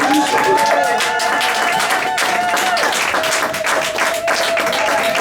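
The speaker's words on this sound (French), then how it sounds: "Applaudissons pour les Seigneurs" A church congregation applauds, dense sustained clapping from a crowd indoors with voices and musical tones mixed in underneath, holding steady for about five seconds.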